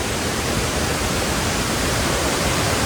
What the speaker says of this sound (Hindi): पानी का शोर बहुत तेज़ आ रहा है, इसलिए मैं अपनी आवाज़ बढ़ा करके आपसे बात कर रहा हूँ।